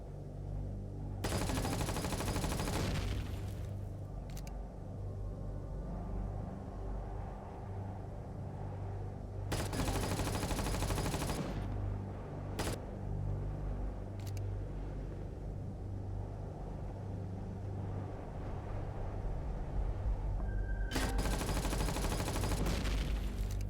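Turret gunfire in the space building game Empyrion, heard as bursts of sharp, loud shots over a steady low mechanical rumble, repeating at intervals, with no talking.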